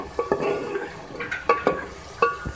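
Ground red chilli powder gets stirred into a cooking potato and purslane saag in a pot, with scattered scraping spoon strokes and soft clinks against the pan over a faint sizzle, close and without speech.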